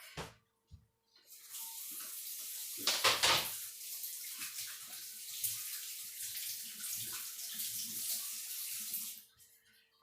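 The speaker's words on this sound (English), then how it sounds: "let me wash my hands" Hands being washed under a running kitchen tap, a steady broadband rush of water for several seconds with brief splashes and clatter at the start and a short tail-off at the end.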